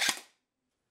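A single sharp airsoft shot cracks from an FMG4 fitted with an upgraded hop-up unit, firing 0.25 gram BBs on a 9.6 volt nickel metal hydride battery, a short bright snap that cuts off into silence.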